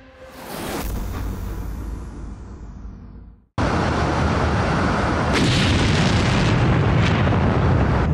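A bridge in Donetsk region is blown up, a large outdoor blast with a roaring whoosh that fades, then a sudden loud, broad explosion roar that continues as heavy rumbling, captured at a distance with no talking.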